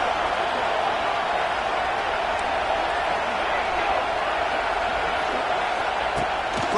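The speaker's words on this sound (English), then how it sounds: "The roar of the crowd trying to fuel this defense to keep them pinned in their own end" Steady, dense roar of a large stadium crowd at a college football game in NCAA 26, a continuous wash of noise at even loudness throughout, with no individual voices standing out.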